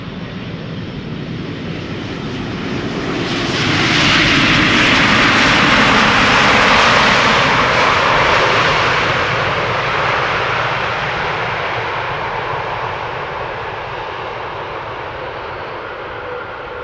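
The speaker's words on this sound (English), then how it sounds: "737-700 passing by overhead to Copenhagen." A Boeing 737-700 airliner passes overhead at Amsterdam Schiphol Airport, its jet roar swelling from a distant rumble to a loud peak, then slowly fading away with no voices.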